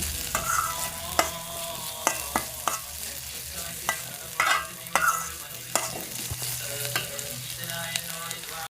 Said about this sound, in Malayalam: പുളിവെള്ളം ഒഴിച്ച് കൊടുക്കുക